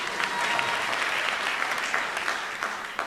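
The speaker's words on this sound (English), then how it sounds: "Someone out there wants to clap." Audience clapping at a school anniversary concert, a continuous roomful of hands at moderate volume, with a few louder claps near the end.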